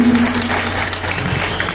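Applause from the audience at a revolutionary poetry gathering marking Veer Savarkar's birth anniversary, a dense steady wash of clapping with a low steady hum beneath it.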